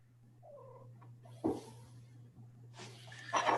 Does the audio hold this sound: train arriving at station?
no